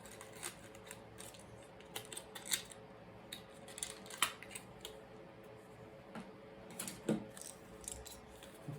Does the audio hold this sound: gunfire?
no